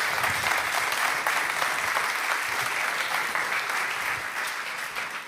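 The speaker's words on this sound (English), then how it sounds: "let's give a round of applause to welcome NATO Secretary General Jens Stoltenberg to the stage" An audience at a youth summit applauds to welcome NATO Secretary General Jens Stoltenberg, a thick, continuous wash of clapping that holds steady and eases slightly toward the close.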